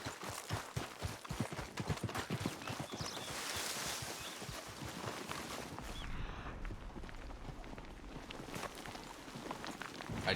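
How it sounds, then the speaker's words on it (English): Horse hooves clatter over rocky ground in Red Dead Redemption 2, a quick, uneven run of clip-clop strikes up close that gives way to a steadier low rumble of movement. "Our horse is kicking rocks over."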